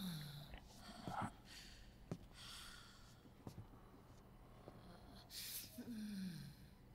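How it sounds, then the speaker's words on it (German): A character in Metal Gear Solid 4 breathes softly, with faint snort-like breaths and sighs, some rising and falling, spread across a quiet background and heard alone. "Man hört sie doch zumindest atmen."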